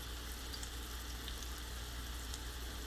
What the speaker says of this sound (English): Preparing these little steaks in the butter and the avocado oil, it takes a little over 5 minutes.